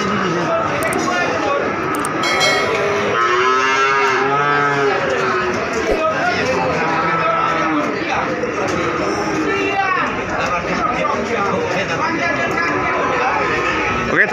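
Cattle low and moo repeatedly at a busy cattle market in Wonoasih, Probolinggo, East Java, where young calves are sold, under constant crowd chatter and nearby voices.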